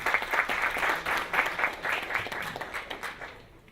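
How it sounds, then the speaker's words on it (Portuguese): An audience at a Brazilian social investment conference claps in a dense round of applause, fairly soft and distant, swelling briefly and then fading out toward the end. "Peço uma salva de aplausos, então, para o pessoal"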